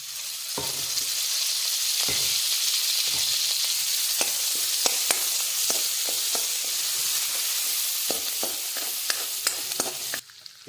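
Onion frying in hot oil for a rustic pathari vegetable curry, a steady broadband sizzle throughout with repeated scraping stir strokes, close and fairly loud, no voices.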